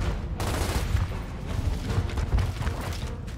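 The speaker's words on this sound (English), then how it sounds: "What are you shooting at, Dom?" Sustained gunfire in the video game Gears of War, a dense rattling fusillade with mechanical clatter running steadily throughout at a fairly even, moderately loud level, with no talk.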